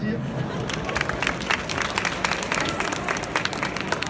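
Audience at a Q&A event in Brussels applauding, steady brisk clapping mixed with crowd murmur, fairly close and sustained.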